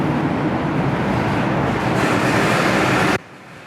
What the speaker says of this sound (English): But this train's starting up.